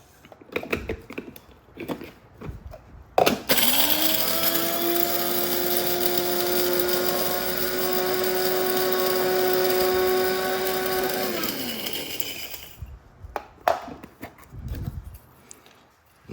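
An electric blender whirs steadily for about eight seconds as it grinds pimento seeds, a loud even motor drone rising and cutting off, framed by clattering kitchen handling before and after.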